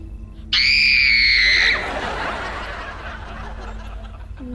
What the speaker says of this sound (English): Sometimes you'll scream like... a girl.